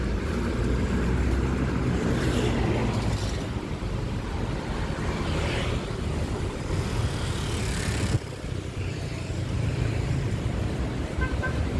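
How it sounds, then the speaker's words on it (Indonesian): Steady roadway traffic of private cars and buses around the west zone gate of Jakarta International Stadium, a continuous broadband rumble with a few horn toots rising over it, no clear talk. "banyak kendaraan, baik dari kendaraan pribadi, bus"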